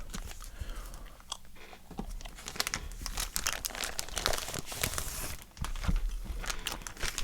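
Pages of an old 1980s magazine flip and crinkle near the mic, dense papery rustles and crackles running throughout with a few sharper snaps.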